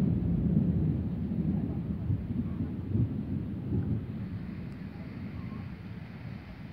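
A deep, distant rumble of thunder rolls over a farm as a rainstorm gathers, a steady low murmur that slowly fades across several seconds, with no one speaking.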